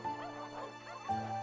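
Dogs give a few short, faint barks and yips over a soft, sustained musical backdrop.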